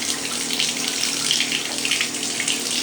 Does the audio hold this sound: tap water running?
yes